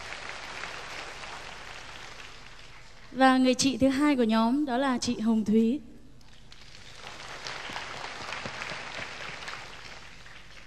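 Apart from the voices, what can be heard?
applause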